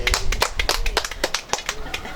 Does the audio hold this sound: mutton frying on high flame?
no